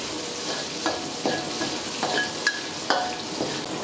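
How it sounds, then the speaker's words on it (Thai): Onions stir-fry in a pan for a Thai cashew chicken dish, with a steady sizzle broken by sharp scrapes and taps of a spatula every half second or so. "นำหอมใหญ่ลงผัดให้เปลี่ยนสีเล็กน้อยนะครับ"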